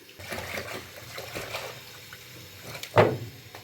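Water pours in a brief splashing gush into a cooking pot of yogurt and gram flour near the end, after a stretch of soft bubbling and stirring sounds.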